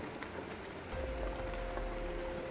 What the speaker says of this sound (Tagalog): Sobrang medyo lumakas na po yung ulan.